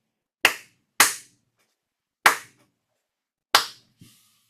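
Single hand claps played back as a rhythm exercise in an online summer class, four sharp isolated claps in an uneven pattern with clean silence between, then a faint softer tap.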